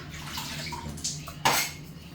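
Water runs steadily over a cutting board being rinsed in a kitchen, with brief splashes and knocks of the board against the sink partway through.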